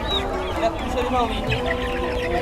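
Chickens cluck at a traditional Ashulia livestock haat ahead of Qurbani, a short burst of fowl calls woven into steady crowd chatter and nearby voices at an open-air market.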